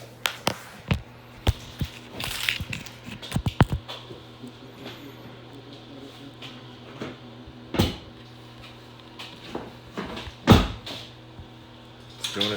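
A car door fitted with door lights being opened and closed, giving sharp thuds and latch clicks spread over the stretch, including one louder slam near the end, with quiet rustling in between and no talking.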